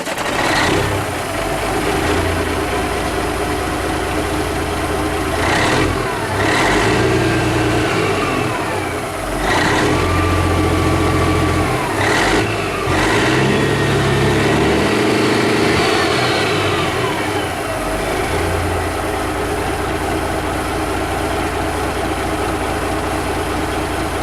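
A truck engine fitted with exhaust stacks idles and revs repeatedly, loud and close, with rising and falling pitch sweeps and several sharp bursts over a constant low rumble.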